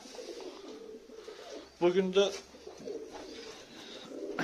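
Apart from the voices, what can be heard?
tumbler pigeons cooing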